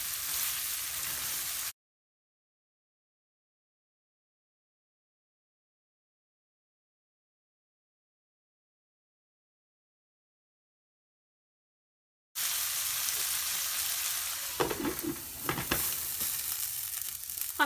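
Okra and potatoes fry in a pan as spicy aloo bhindi sabzi, a steady broadband sizzle at the start, then a long stretch of silence, then the sizzle returns louder with a few brief stirring clatters.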